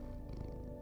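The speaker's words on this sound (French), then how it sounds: "Regarde, on peut caresser le petit chat." A small kitten purring as it is petted in the video game Loopmancer, a soft, steady low rumble with no voices over it.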